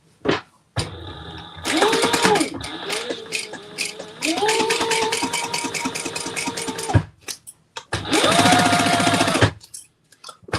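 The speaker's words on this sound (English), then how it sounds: "we're going to put 2 rows of stitches here" A sewing machine runs in several sustained bursts, stitching two rows along the zipper pocket lining of a bag, with whirring motor tones rising and falling and brief pauses between runs, close and loud.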